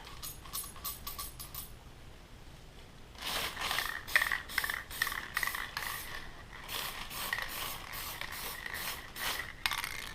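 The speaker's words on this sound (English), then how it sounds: "Just spraying down the case and into the neck" Aerosol case lube is sprayed onto 7.62x54R rifle brass in short hissing bursts. A few quick spurts come first, then a longer run of repeated sprays, all fairly faint and close.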